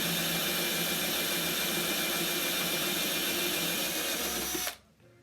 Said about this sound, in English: now we're going to drill out these holes